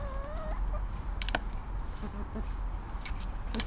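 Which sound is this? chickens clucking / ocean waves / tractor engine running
chickens clucking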